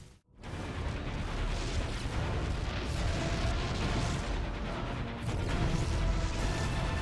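Continuous heavy rumbling of StarCraft II explosions, a dense, loud roar that barely lets up, with a brief gap at the very start.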